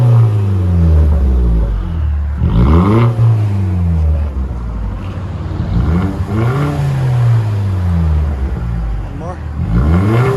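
A 2012 Chevy Cruze LT turbo with straight-pipe exhaust revs hard several times, each rev sweeping up and falling back in a loud, rasping burst over a steady idle rumble.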